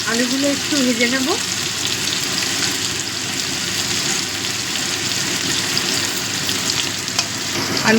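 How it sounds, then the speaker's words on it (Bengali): Small diced potatoes frying in a pan after the whole spices have been tempered, a continuous loud sizzle with stirring scrapes running throughout; a brief voice sounds near the start. "আলুগুলো একটু ভেজে নেব"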